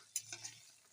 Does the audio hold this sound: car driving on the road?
no